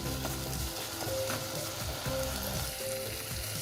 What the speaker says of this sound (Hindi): ये मैंने इसको अच्छा सा भून लिया है और शलजम भी मैंने घोट लिए हैं।